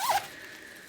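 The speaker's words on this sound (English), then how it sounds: "But I think my favorite feature is the zipper." A quick zipper pull on a crossbody bag with handles, one short close rasp lasting a fraction of a second before fading into quiet room tone.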